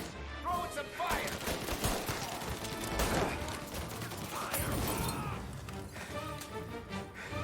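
Sustained gunfire in the crime video game Mafia, a busy run of shots and bursts with crashing impacts that keeps going loud and dense throughout, mixed with game effects.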